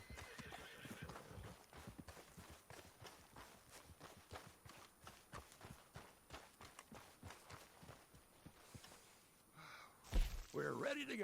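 Horse hooves clopping at a steady walking rhythm through most of the stretch inside the game Red Dead Redemption II, with a horse whinny near the start and a louder burst of movement near the end, all fairly quiet.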